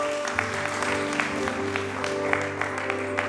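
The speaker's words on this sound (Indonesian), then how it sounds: "Tepuk tangan untuk Tuhan." Congregation at an Easter worship service clapping together, a steady wash of applause with sustained music tones underneath.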